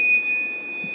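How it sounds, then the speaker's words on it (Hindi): A multimeter in continuity mode beeps a steady, sustained high tone while probing a shorted track to ground on a laptop motherboard that has no power, heard alone and fairly loud through the whole moment. "देखिए ये ग्राउंड हो गया, साउंड आ रहा है, बीपिंग आ रहा है"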